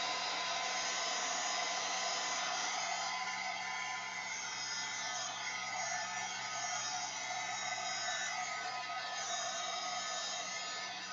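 A hair dryer blows steadily and loudly at close range for the whole stretch while drying a mixed media collage bag decorated with napkins and acrylic inks, with no talk.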